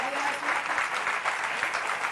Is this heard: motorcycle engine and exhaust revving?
no